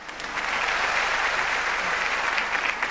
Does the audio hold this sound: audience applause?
yes